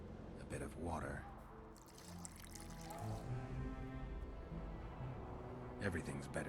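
Water pours in a video game during an alchemy-style mixing step with burnt lime, making a short liquid splash and trickle among game music and ambient sound.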